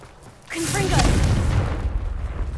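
A Confringo fire spell bursts with a sudden loud boom and crackling blast in Hogwarts Legacy, erupting at half a second and rumbling on with a sustained roar over the remaining two seconds.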